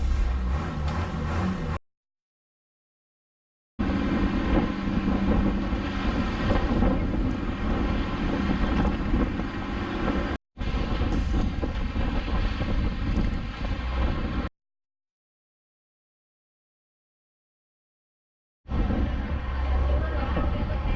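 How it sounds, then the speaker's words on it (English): A passenger boat crosses rough waves between Malapascua and Kalanggaman in Cebu, Philippines. Loud, churning water and wind roar against the microphone in long bursts broken by sudden silent dropouts. "Pretty rough waves, a little bit wet, pretty much everybody in front."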